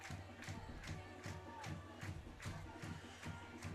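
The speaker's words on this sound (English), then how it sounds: "the crowd is ecstatic, very excited and happy for their Satellites right now" A crowd at a high school football game cheering and shouting in a loud steady roar, with rhythmic pulsing beats that sound like band drums underneath.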